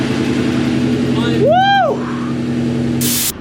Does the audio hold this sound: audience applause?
no